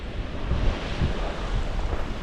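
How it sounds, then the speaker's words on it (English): Strong west-southwest wind blows across a big river below a dam, a steady, loud rush of buffeting microphone noise with surging gusts and no voices. "It's a pretty good wind coming out of the west, southwest."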